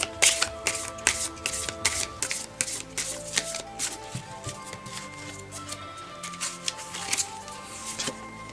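Dixit cards being shuffled for a tarot-style reading, a rapid run of riffling, flicking card snaps close up, repeating rhythmically for several seconds with no talking.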